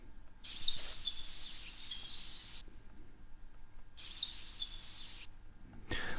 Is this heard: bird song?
yes